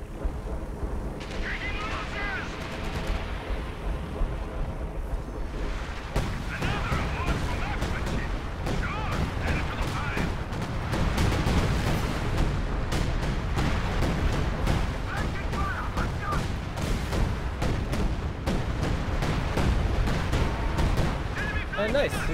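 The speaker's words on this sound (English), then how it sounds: "So this guy is gonna do another one of those barrages" An artillery barrage in a real-time strategy game fires in rapid overlapping booms and blasts, loud and dense after a quieter opening, with someone talking over the shelling.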